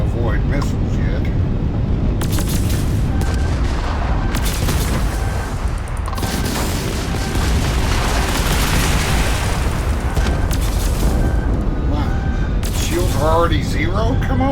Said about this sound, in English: I don't know how to avoid missiles yet.